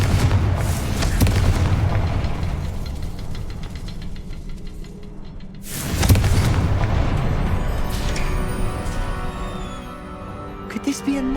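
Confringo fire-spell blasts in Hogwarts Legacy erupt as heavy booming explosions, one big burst near the start and another mid-way, each rolling into rumble, while a voice speaks over the action.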